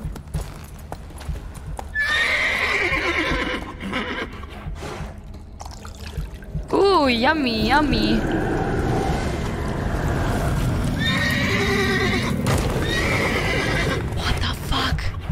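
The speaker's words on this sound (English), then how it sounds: "Is she now a horse?" In The Witcher 3, a horse whinnies loudly in a quavering, high-pitched call midway through, among clip-clopping hooves, watery trickles and game ambience, while a voice talks over the scene.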